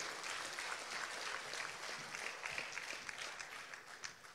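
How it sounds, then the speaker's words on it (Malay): A crowd at a DAP political gathering gives a long, steady round of clapping for visiting speakers, heard from a distance and fairly soft, with no other sound. "saudari Michelle Ng, berikan satu tepukan kerana mereka datang dari jauh"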